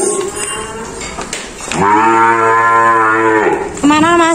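Two small young bulls being loaded for shipment by a cattle dealer, one giving a loud, long, close moo that holds steady, followed by the start of another, with faint background noise.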